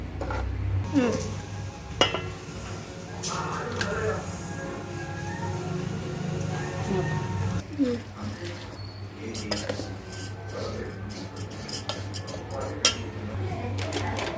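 Wheat rava is roasted in a pan and moved into a bowl, with steady scraping and stirring, metal clinks of the spatula and a faint sizzle running throughout.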